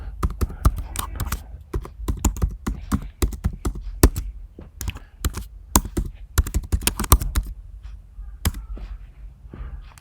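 A username being typed on a computer keyboard, with dense irregular runs of sharp key clicks and occasional louder thunks, close up and alone for about ten seconds.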